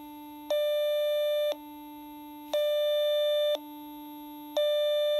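A SmartLab Smart Circuits microprocessor kit sounds loud, pure electronic tones that alternate between a low and a high pitch about once per second, steady and buzzy, with no talk.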